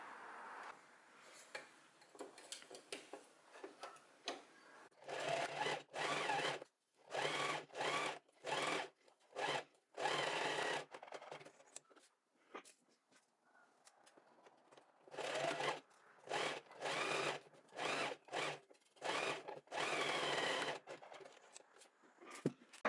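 A sewing machine stitches a vest in repeated bursts of rapid mechanical whirring, each a second or so long, separated by short pauses, with quieter handling sounds in between.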